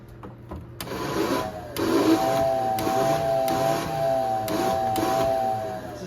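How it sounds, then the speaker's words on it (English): A model railroad layout's whistle, switched on from a control panel, sounds as a steady high tone with faint hiss and soft mechanical clicks, running continuously for several seconds at moderate volume. "The switch to the right of that is for the whistle."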